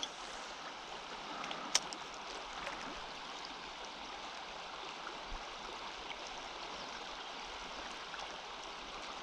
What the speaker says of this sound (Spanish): Se escucha por ahí el río.